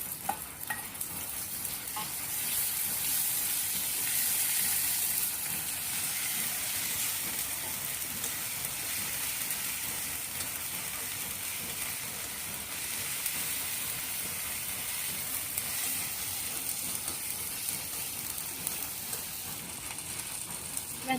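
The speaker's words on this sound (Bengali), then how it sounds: "এখন আমি দিয়ে দেবো কাঁচামরিচ বাটা।" Green chili paste sizzles with onions in a frying pan, a steady, bright hiss that stays loud and even throughout.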